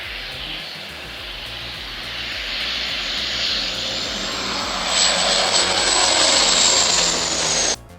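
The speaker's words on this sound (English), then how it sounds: "A plane soon came and released a water bomber" A water bomber plane passes over a burning truck, its engine roar loud and steady, swelling gradually as it comes nearer before cutting off abruptly.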